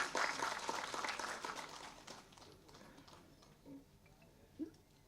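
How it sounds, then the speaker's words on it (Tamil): Audience applause at a film press meet, fairly faint and distant, strongest at the start and tapering off into sparse claps within a few seconds. "நல்லா கைதட்டுங்களா ஒரு."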